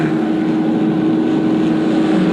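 A dense, steady drone of Formula Vee race cars' 1.2-litre Volkswagen engines idling and revving together on the starting grid, loud and continuous with a strong humming tone and no pauses.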